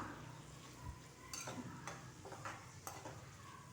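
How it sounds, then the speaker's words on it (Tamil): Garlic, onion and tamarind sauté in a pan, giving a faint, steady sizzle under a few soft scraping stirs of a spoon against the metal, close and quiet with no talk. "பூண்டு வெங்காயம் கொஞ்சம் கலர் மாதிரி வரணும் அது வரைக்கும் நம்ம கலந்து விட்டுக்கலாம்"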